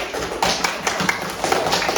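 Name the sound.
audience applause in a classroom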